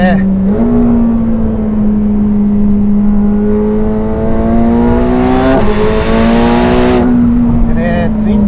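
The twin-turbo engine of a 2025 McLaren 750S pulls hard along a winding road, its tone climbing steadily, then briefly dropping at a shift before rising again. The sound is loud and close, from inside the car.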